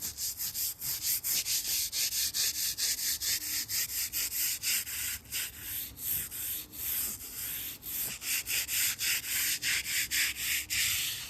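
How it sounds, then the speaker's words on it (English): Steady, rhythmic scrubbing of a brush against a stone headstone, loud and close, continuing for the whole stretch with no voices. "I love to clean headstones. And so I'm here to clean your headstone today."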